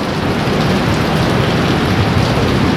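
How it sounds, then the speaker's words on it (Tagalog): Rain falling steadily on a campsite at a motocamping spot, a loud, dense, even hiss of drops hitting surfaces throughout, with no voices. "Ulan."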